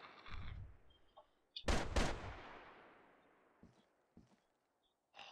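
Gunfire in the online shooter Decimation. A few sharp, loud shots ring out with long echoing decays, then several fainter, more distant cracks follow in the quiet.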